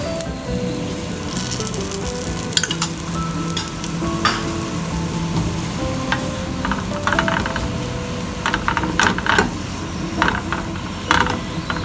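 A stuffed moong dal paratha frying in oil on a hot pan over a high gas flame, giving a steady close sizzle with scattered crackles and pops throughout, no voices.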